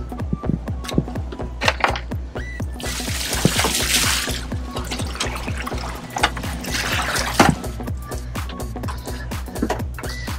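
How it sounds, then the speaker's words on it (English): Water pours and splashes while freshly caught yellowfin tuna are rinsed aboard a fishing boat in Hawaii, a steady trickling gush with a rhythmic pumping thump underneath, close and fairly loud throughout. "Wendell, rinse them off."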